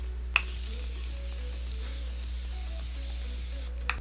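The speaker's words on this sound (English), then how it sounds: "I'm going to go ahead and spray my face with this Morphe setting spray." Two short, crisp hisses of Morphe setting spray being misted onto a face, one near the start and one near the end, separated by a quiet steady background hum.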